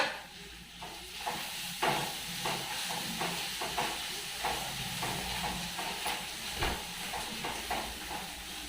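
Bitter gourd seeds go into a pan of frying onions, giving a steady moderate sizzle with scraping stirs and a few sharp clinks from a spoon against the pan.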